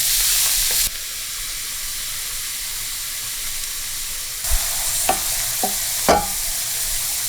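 Onion frying in a pan for Persian-style macaroni, a steady close sizzle that shifts in intensity, with a few sharp clinks and scrapes of stirring near the end.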